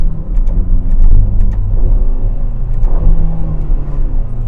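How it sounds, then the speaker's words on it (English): A Ferrari Portofino's exhaust rumbles loud and close through a series of quick downshifts, the engine note rising and falling in short bursts over a deep, steady drone. "You guys see how quickly I rifled through those downshifts."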